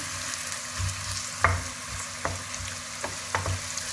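Soft, steady sizzling of chopped onions frying in oil in a pot for a meat stew, with a few light clicks of a spoon stirring.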